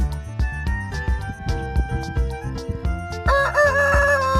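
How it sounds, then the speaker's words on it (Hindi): A rooster crows loudly near the end over a bright, busy children's music track with steady beats and melody, the crow rising clearly above it. "सुबह सवेरे इसका साथी यानी मुर्गा बांग देकर सबको जगाता है।"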